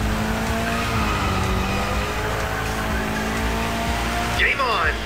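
A car drifts in The Crew Motorfest racing game, with a sustained engine drone and rising harmonic tones that end in a sharp tire squeal near the end.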